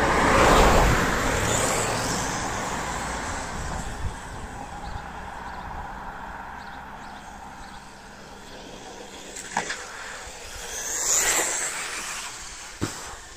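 A brushless-converted Wltoys 144001 RC car drives around, its motor whine rising and fading as it passes near and far, with a few sharp knocks and bumps, no talking.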